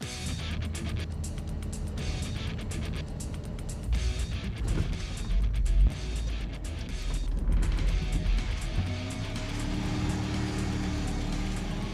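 A 1999 Dodge pickup, the Lil Red Wagon, driving on the road: a steady engine and road rumble with a few swells of revving, heard continuously from inside or close by.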